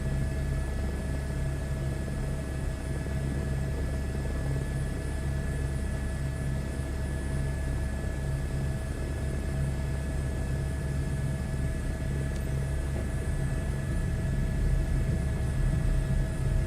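Helicopter rotor and engine droning steadily in a flight-simulator cockpit, a loud, constant whirring hum with a faint high whine, unbroken and close for the whole stretch, no voices.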